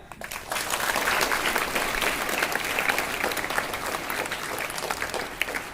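Sustained applause from a classroom of students at a school hygiene event, dense and steady clapping lasting throughout with no talk over it.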